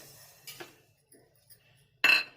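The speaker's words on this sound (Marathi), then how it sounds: "इथे मी कढई ठेवली आहे" A heavy metal kadhai is set down on a gas stove with a soft clank, then a louder, sharper metallic clatter follows about a second and a half later.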